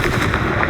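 A Confringo fire spell blasting in Hogwarts Legacy, a short loud burst of crackling explosive impacts in quick succession.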